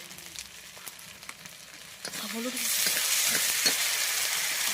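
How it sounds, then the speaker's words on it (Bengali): Tomato and dried chili paste going into hot oil for golda chingri malaikari: quiet stirring taps at first, then a sudden loud, bright sizzle that holds steady to the end, close and without talk. "এইবার টমেটো আর শুকনো লঙ্কা বাটা একটু দিয়ে দেওয়া হচ্ছে দিয়ে ভালো করে কষে নিতে হবে"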